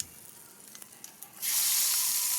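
Tempering poured into bottle gourd kootu sets off a sudden loud, steady sizzle in the second half, after a quieter stretch of faint ticks and clinks.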